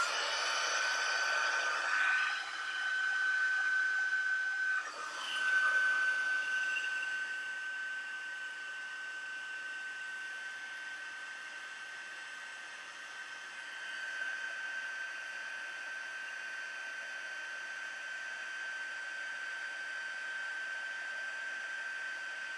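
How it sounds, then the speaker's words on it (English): Heat embossing tool blowing hot air onto a Christmas snowman gift tag, a loud steady whirring hiss with a high whine that runs continuously and alone, slightly rougher in the first few seconds. "I'm going to pull out my heat tool, and we're going to heat emboss this."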